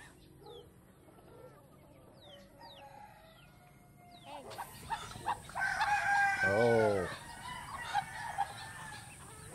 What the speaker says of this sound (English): Let's take a look at the pen where chicken and ducks are kept.